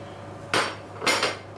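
A gratin dish of fish is set back into the oven, giving two short, fairly close clattering knocks of ceramic against the metal rack, with low kitchen hum between them.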